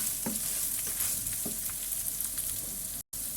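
Rice toasts in a hot pan with a soft continuous sizzle, broken by a few distinct scraping strokes of a spoon as the grains are stirred. No one talks over it.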